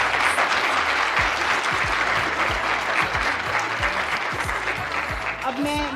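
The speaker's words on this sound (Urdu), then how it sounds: "ایک دفعہ ان سب ڈاکٹرز کے لیے، پیرامیڈیکل سٹاف کے لیے بھرپور تالیاں" Sustained, loud audience applause for doctors and paramedical staff at a Pakistan Independence Day ceremony at a programme headquarters, steady dense clapping throughout with some talk mixed in.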